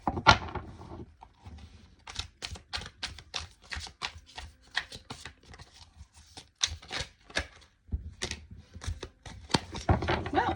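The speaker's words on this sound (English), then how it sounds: "last split. Let's shuffle." Tarot cards are shuffled by hand in a series of quick, crisp riffles and taps, close and fairly quiet, with short pauses between bursts and no talking.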